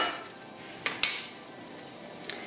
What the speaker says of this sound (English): Now what I'm going to do is just mix everything a little bit, make sure that all of the butternut squash is in the liquid